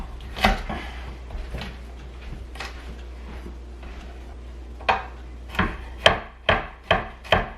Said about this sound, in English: First thing I'm going to do is chop up very finely about 3 cloves of garlic.